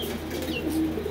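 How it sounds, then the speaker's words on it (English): Young homing pigeons cooing in a loft, a soft, low, continuous murmur of coos close by, with a faint higher chirp and no talking. "young homing pigeons like this"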